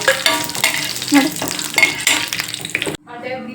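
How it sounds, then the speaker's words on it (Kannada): Fish frying in a pan for a spicy coastal-style masala fry crackles and sizzles loudly up close, with stirring and scraping of a utensil, then cuts abruptly to a softer sizzle near the end. "ನಾನು ಫಿಶ್ ಹಾಕ್ತಿದ್ದೀನಿ"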